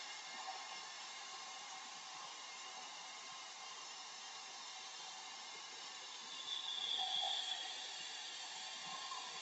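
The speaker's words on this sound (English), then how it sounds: "Could do with a hotter hairdryer." A hair dryer blows steadily throughout with a constant airy hiss and whine, swelling slightly louder for a moment near the end.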